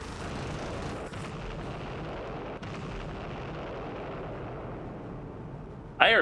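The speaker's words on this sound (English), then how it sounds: "heard 3 explosions" Missile explosions in the naval combat game Jane's Fleet Command, heard as a continuous dense rumble of distant blasts with a sharp burst near the end.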